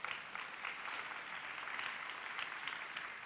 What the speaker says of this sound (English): That is the most applause we get in a show.